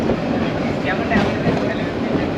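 A Dhaka–Narayanganj local train rolls on with a dense, steady rumble and faint wheel clatter, heard from aboard amid a passenger murmur.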